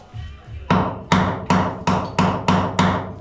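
A hammer gently taps at a porthole on a steel ship under restoration, seven sharp, evenly spaced knocks ringing out close and loud with no talk.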